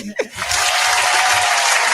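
A canned applause button fires a brief burst of crowd clapping that starts abruptly after a short vocal sound and holds at full loudness for about two seconds.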